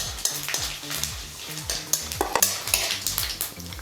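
Cardamom, four cloves, ten peppercorns and a teaspoon of fennel seeds fry in a pan with a soft sizzle, while a utensil stirs and scrapes the metal in rhythmic, repeated strokes close by.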